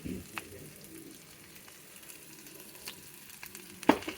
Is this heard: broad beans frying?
yes